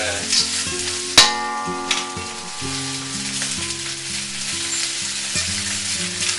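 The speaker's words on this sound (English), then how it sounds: "toss the shrimp back into the wok. And what we're going to do is just keep stirring them around" Jumbo shrimp being stirred around in a hot wok for salt and pepper shrimp, a bright continuous sizzle with one sharp metallic clank, heard under loud melodic background music.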